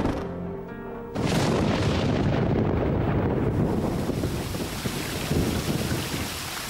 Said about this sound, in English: When the rains finally arrive, they are torrential.